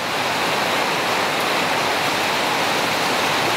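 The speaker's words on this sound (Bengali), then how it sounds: "মানে এত বৃষ্টি হচ্ছে।" Heavy rain pours down in the village of Sittong, a dense, loud, unbroken roar blended with the rush of river water, heard from under an umbrella with no voices.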